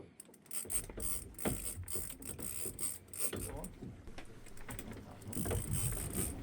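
A fishing reel is wound on a rod aboard a deep-sea skate fishing boat in the Firth of Lorne off Oban, producing quiet, irregular ratcheting clicks and gear whirs over faint boat and sea background.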